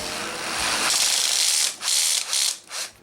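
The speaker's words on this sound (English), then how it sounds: "From here I'm going to take the cutter and push it up." A case cutter trims new .45 Colt brass spun in a drill, giving a loud, close grinding and ratcheting scrape that cuts off and restarts in short bursts.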